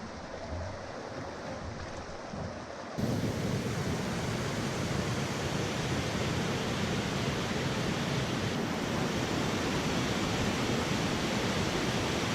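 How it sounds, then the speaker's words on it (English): Steady broadband rush of a waterfall in a wild wooded stretch reached on an overnight canoe trip, quiet at first, then jumping to a loud, constant roar from about three seconds on, with no voices. "right beyond there I can see a nice waterfall."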